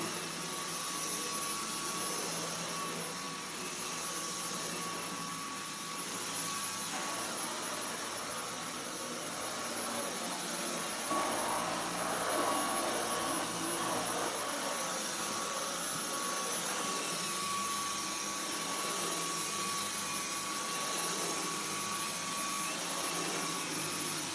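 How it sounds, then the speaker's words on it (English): A Dyson V10 Animal cordless vacuum cleaner runs on power mode 2 with a steady, whining motor roar that holds at an even level throughout, with small shifts in tone as it moves around. "I'm just going to carry on vacuuming around"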